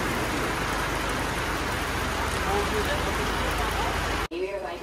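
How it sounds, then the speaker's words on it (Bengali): Heavy rain falls steadily near the India-Nepal border, a dense continuous hiss that stays loud and even before cutting off abruptly near the end. "বর্ডারে ঢোকার ঠিক আগেই এরকম বৃষ্টি শুরু হয়ে গেছে"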